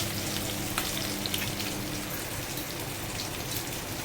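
Garlic and curry leaves sizzle and fry steadily in hot oil for a Konkan-style kingfish curry, a dense continuous crackle close by with no talking.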